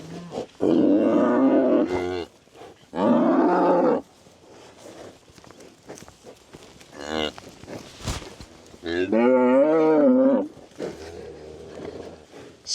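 An angry mother cow moos in loud, drawn-out bellows, four long calls spaced across the stretch, close to the listener with quiet outdoor gaps between them.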